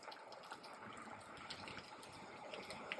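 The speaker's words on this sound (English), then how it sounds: "You probably can hear the rain in the background and a little bit of traffic." Soft steady rain falls in the background as an even, hissing wash, faint and continuous, with a little distant traffic mixed in and no talk.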